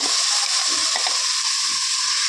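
Washed rice goes into hot frying oil with cumin, ginger and garlic, setting off a steady, loud sizzling hiss with a few faint scraping clicks underneath.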